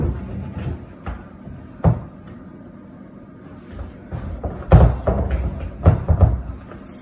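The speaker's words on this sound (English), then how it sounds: "So I'm gonna pull this chair out." A chair being pulled out indoors for a home workout, a series of wooden thumps, knocks and scraping drags of varying loudness, with clustered heavier bumps toward the end.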